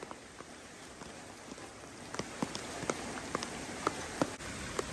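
Steady rain falls with scattered drops pattering on nearby surfaces, a soft continuous hiss underneath.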